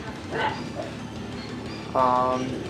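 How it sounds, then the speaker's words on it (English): Dogs barking indoors at home: a short bark early on, then a louder, ringing bark near the end, with quieter room noise in between. "the dogs are barking"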